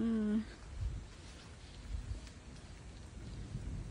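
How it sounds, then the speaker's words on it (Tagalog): Steady heavy rain pours down in Germany with a low rumbling undertone, a dense wash of noise that holds at a fairly even level throughout. "Ayan na ang ulan."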